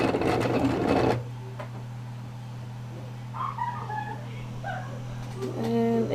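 A home printer runs steadily in the background, a loud mechanical whir for the first second that then settles into a low continuous hum, with a few faint clatters and a brief rise again near the end.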